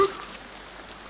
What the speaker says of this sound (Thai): ฝนตกนะครับ